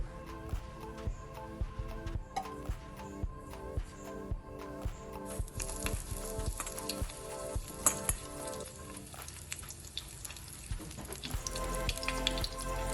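Brinjal slices for Gujarati ringan na palita fry in oil on a tawa with a steady crackling sizzle, dotted with sharp pops and small clinks, close and moderately loud with no talk.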